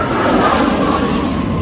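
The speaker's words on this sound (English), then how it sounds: "the planes landing and taking off from this local airport" Planes landing and taking off at a local airport beside a state park RV campground in Myrtle Beach, South Carolina, a loud, steady broadband roar filling the whole moment without a break.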